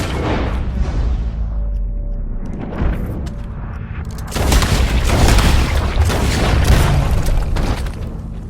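A gunshot in the Red Dead Redemption 2 video game brings a loud booming burst, with more blasts later on, all over a steady low rumble of ambient game sound.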